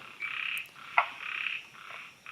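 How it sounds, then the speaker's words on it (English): Several frogs croak at night in Yangmingshan National Park, Taiwan, in short repeated bursts, fairly close, with brief pauses between calls against a quiet background. "it certainly sounds like there are a lot of frogs here tonight"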